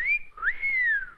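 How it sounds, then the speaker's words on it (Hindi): A person whistles at a policewoman: one loud, close, rising-and-falling whistle lasting about a second, clear and with no talk over it. "पुलिस वाली को देखकर सीटी बजाते हो?"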